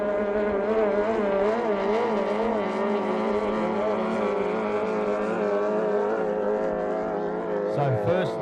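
Racing boats at the Glenmaggie Cup cross the start-finish line on the last lap with a loud, sustained engine whine that wavers slightly in pitch and stays close and continuous.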